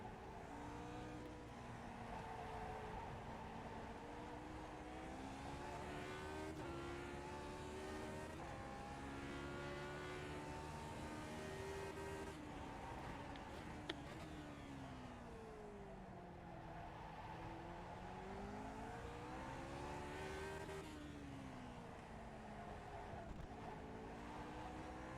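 Lotus 49 race car engine howling around Belle Isle in the iRacing simulator, its pitch rising and falling continuously through gear changes and corners, loud and steady throughout with no talk.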